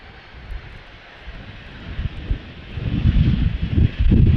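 A windy Amsterdam Schiphol airport scene, an Embraer jet taxiing to line up on runway 36L, its engine rumble rising steadily from faint to loud and rough against gusty wind noise.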